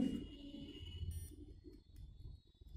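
A multimeter on continuity test beeps as its probes touch components on a laptop hard disk circuit board. A thin, steady electronic tone sits over a low background rumble in a short, quiet stretch.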